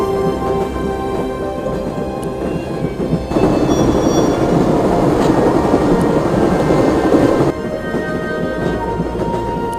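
A train rolls through a thunderstorm in the Broken Sword video game, a dense, loud, steady rumble with rain hiss that swells heavier through the middle stretch.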